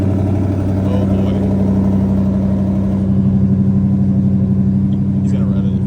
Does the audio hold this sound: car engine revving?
yes